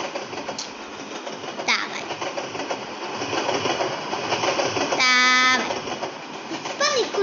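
A train runs along the rails in the Roblox game Frozen Rails, giving a steady rumbling clatter broken by brief bursts of game effects and a voice.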